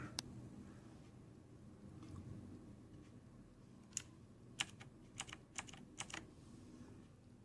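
Typing on a Razer BlackWidow 2014 mechanical keyboard with Kailh Green switches: quiet, sparse clicky keystrokes at first, then a faster run of sharp clacks near the microphone, with no speech.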